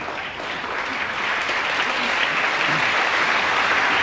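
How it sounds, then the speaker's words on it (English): A snooker crowd at the 2015 Welsh Open quarter-final gives Marco Fu a big round of applause, a dense, steady wash of many hands clapping that swells slightly and holds loud throughout. "it's a big round of applause here for Marco Fu from this crowd there"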